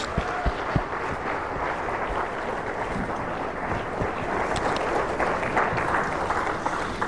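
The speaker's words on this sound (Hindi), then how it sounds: "जोरदार शानदार ताली बजाना चाहूंगा" An audience at a leadership stage event applauds, a steady wash of clapping from a crowd at some distance that holds for about seven seconds with little change, with a few louder claps near the start.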